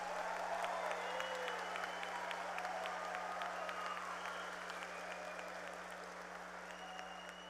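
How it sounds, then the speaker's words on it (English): Sustained crowd applause at a high school graduation ceremony, loud and even at first and then tapering gradually, with faint voices mixed in and a steady hum beneath. "give them a big round of applause."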